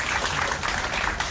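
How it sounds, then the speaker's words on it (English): A crowd claps in a round of applause at a youth rabbit breeding show, a brief, dense and even patter of many hands without any pause. "Let's give them a round of applause as well from Hair Raisers."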